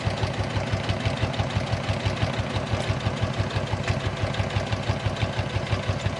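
A sewing machine stitches a quarter-inch seam allowance on a small makeup bag, a close, steady rapid mechanical thrumming with an even rhythmic pulse and no pauses or talking.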